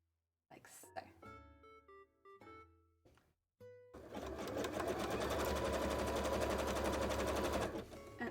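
A sewing machine stitches fabric for cosplay pants, starting with a few short bursts amid handling noise, then running steadily and loudly for several seconds before stopping.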